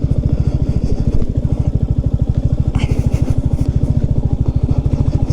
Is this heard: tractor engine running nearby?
yes